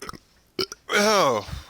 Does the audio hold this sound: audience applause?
no